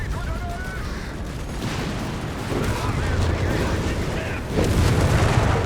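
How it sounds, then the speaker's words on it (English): Grenade and high-explosive blasts amid fighting in Company of Heroes 3, a World War II strategy game: a steady wash of distant gunfire and rumbling explosions, with a louder blast near the end and a voice talking over the din. "Grenades, high explosives there."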